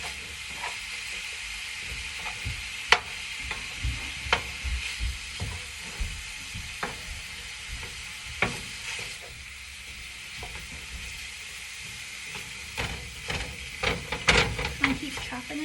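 Meat sizzles and fries in a pan for Mexican rice, kept stirred and chopped, with a steady hiss broken by sharp scraping clicks of the utensil against the pan throughout.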